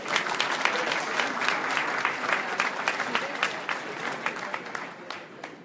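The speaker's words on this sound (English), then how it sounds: "Let's give them a round of applause." An awards gala audience honoring accomplished Black Canadians breaks into steady, full applause, a dense wash of many clapping hands that holds evenly throughout without talk.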